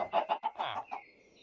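Chickens in the video game Minecraft give a quick series of close, clipped clucks that stop abruptly and leave a faint tonal hum.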